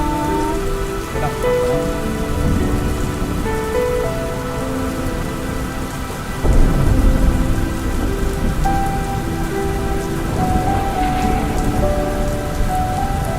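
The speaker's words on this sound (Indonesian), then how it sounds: "dia udah hujanan, lebat kali hujannya" A heavy downpour drums loudly and steadily on surfaces, with a deep rumble swelling about halfway through. Tonal lines run under the rain, and no voices are heard.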